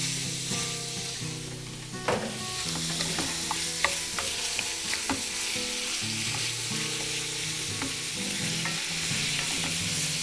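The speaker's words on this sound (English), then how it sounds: "We're going to saute this down." Sausage links and hamburger meat sauté in a pan, a steady, moderately loud sizzle with occasional utensil taps and scrapes while the meat is stirred.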